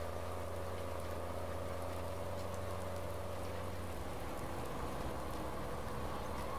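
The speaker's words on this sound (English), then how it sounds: "this kind of rain just will not let up" Steady, dense rain pours without pause in the farming game Farming Simulator 19, a constant hiss of drops on surfaces with a low hum underneath and no talking.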